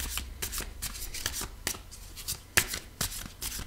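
Tarot cards shuffled and drawn from the deck during a coffee-ground fortune reading: soft, quick papery riffles and taps in irregular bursts, close and quiet, with one sharper snap midway.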